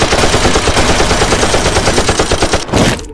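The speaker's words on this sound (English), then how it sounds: "Out of fear, all the soldiers began firing into the woman." Soldiers fire guns in a Resident Evil story: loud, rapid, sustained automatic gunfire rattles without pause for about three seconds, then cuts off abruptly.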